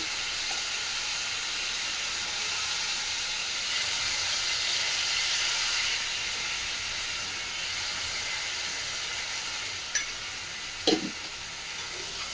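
Masala sizzles and hisses steadily while frying in a pan with onion, ginger and garlic paste nearby, a close, continuous crackle with a couple of faint clinks near the end.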